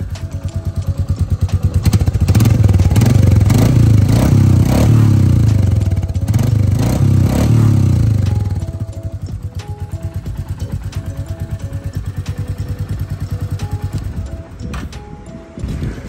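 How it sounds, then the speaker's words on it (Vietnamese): Royal Enfield Meteor 350 motorcycle exhaust revs up loudly to a sustained roar for several seconds, then eases back to a steady, lumpy idle thump that continues up close with no talking. "Rồi, anh em nghe thử cái tiếng bô nha."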